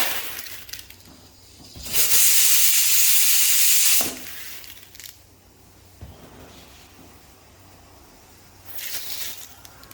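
A pressure cooker cooking mutton gives two loud bursts of hissing steam, one lasting about two seconds and a shorter one near the end, with softer hissing in between.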